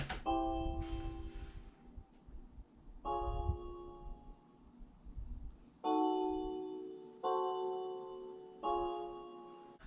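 Sustained synth chords made with Ableton stock sounds ring out in spaced phrases, each note swelling and trailing off with a washy reverb echo, eerie and slow, with no voices.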